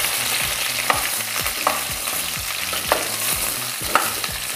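Garlic frying in a pot is stirred with steady sizzling and a soft repeated scraping rhythm, close and continuous, with no voices.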